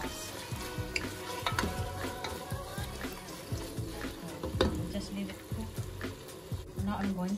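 Beef and broccoli stir-frying in a pan, with steady sizzling and intermittent scraping and stirring clatter throughout, fairly close and continuous.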